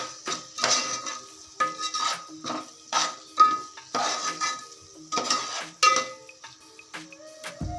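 Fish being mixed in a pan with chili powder, salt and turmeric: rhythmic spoon scrapes and clinks against the metal pan, regular strokes about every half second over a light sizzle, close and without speech.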